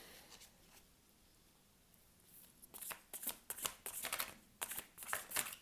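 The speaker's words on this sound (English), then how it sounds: "And I will shuffle for some oracle cards." Oracle cards being shuffled by hand, a faint quiet stretch and then a run of crisp, rapid riffling bursts close to the microphone, with no talking.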